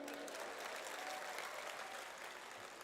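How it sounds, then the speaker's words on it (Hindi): An audience applauds at a Hindi comic poetry gathering, a steady wash of many hands clapping at moderate distance, even and unbroken throughout, with no talk over it. "अच्छे से तालियां बजाइए।"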